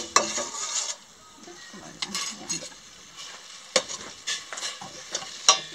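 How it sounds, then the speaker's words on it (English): Green curry paste sizzles while being roasted in coconut milk, with a spoon scraping and stirring against the pan in a few irregular clatters and a soft background hiss. "You want to roast it first in the coconut milk."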